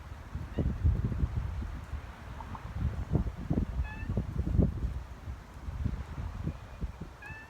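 A cat lets out a few faint, short meows spread across the stretch, set against soft rustling and thumping movement nearby, with no one speaking.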